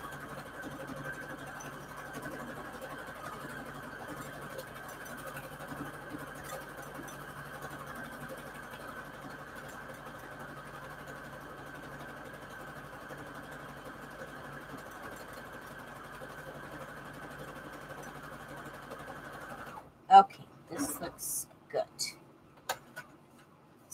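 A sewing machine running steadily as it stitches a decorative embroidery flourish on fabric attached to index cards, a continuous mechanical whir for about twenty seconds before it stops, followed by a few sharp clicks and handling sounds.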